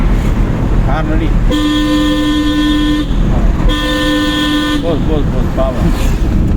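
A car horn blares twice during a driving lesson, two long steady honks of about a second and a half each, close and loud over the idling car, with people talking around them.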